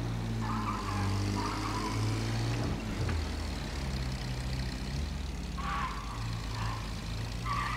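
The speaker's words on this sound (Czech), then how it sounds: "ten zvuk toho motoru si tady bude rozlíhat" Car engine idling and revving inside an echoing garage in the video game Mafia: Definitive Edition, a deep steady rumble with tonal hum that swells and shifts pitch, continuous and fairly close, with no talking.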